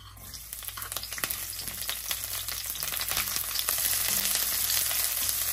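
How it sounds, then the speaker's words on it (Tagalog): Onion sautéing in cooking oil or olive oil in a frying pan for a chicken teriyaki dish, a steady crackling sizzle running throughout, close and fairly loud, with no talking. "Ito sa ating frying pan, maglalagay muna tayo dito ng cooking oil or olive oil. Una natin isasangkot siya yung ating onion."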